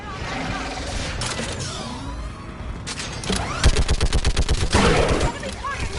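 Mounted gun firing in Mass Effect, a heavy burst and then a steady, rhythmic stream of loud, close booming shots, with a voice and battle noise around it.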